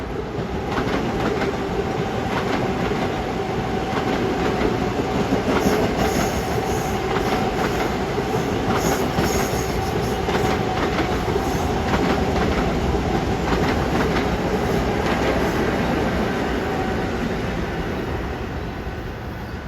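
A Long Island Rail Road commuter train arrives at Forest Hills, rumbling steadily close by, wheels clattering and faint metallic squeals rising over the continuous roar of rolling rail cars.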